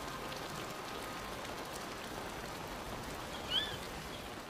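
Rain falls steadily on the savannah, a soft continuous hiss of drops on surfaces at low level, with a brief faint chirp standing out near the end.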